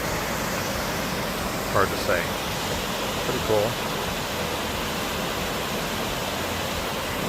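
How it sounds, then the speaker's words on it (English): Clearwater Falls in Umpqua National Forest pours with a steady, broadband roar of falling water, and a voice speaks briefly twice over it. "This is the Clearwater Waterfalls, or Clearwater Falls."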